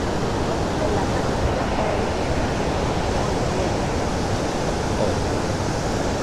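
Ban Gioc waterfall on the Vietnam–China border roars as a steady, loud, unbroken rush of falling water, filling the whole stretch with dense broadband noise.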